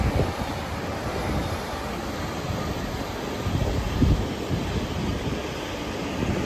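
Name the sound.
metro train passing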